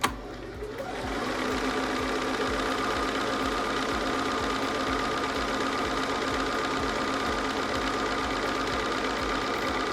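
A Bernina sewing machine fitted with a circular embroidery attachment runs a straight stitch, its steady rapid needle clatter and motor hum continuous and close after a brief start.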